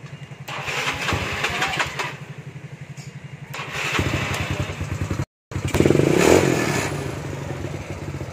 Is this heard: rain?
no